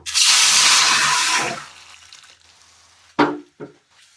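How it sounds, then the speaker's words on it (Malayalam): Water gushes loudly into a pan on the stove for about a second and a half, then stops; a couple of sharp clanks of cookware follow. "അടുപ്പത്തൊരു ചട്ടി വെച്ച് കൊടുത്ത് അല്പം വെള്ളം ഒഴിച്ചു കൊടുക്കാം"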